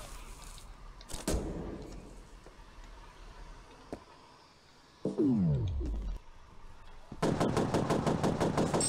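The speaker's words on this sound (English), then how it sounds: "they do not stop shooting" Enemy gunfire in the shooter game F.E.A.R. arrives in a single sharp burst, then a sweeping mechanical whine, then rapid machine-gun fire that closes out the clip loud and close, with no talk.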